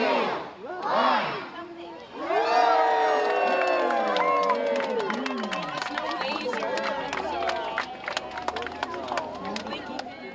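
Roughly 250 revelers at a yearly Yuletide Christmas gathering raise a loud, sustained roar of shouting and cheering, with rising whoops and calls layered over crowd babble that carries on without pause.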